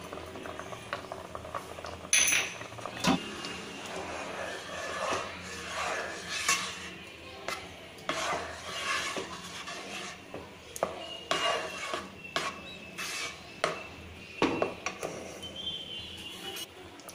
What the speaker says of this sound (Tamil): ஏலக்காய் தூள் சேர்த்து நல்லா மிக்ஸ் பண்ணி விட்டுருக்கோம்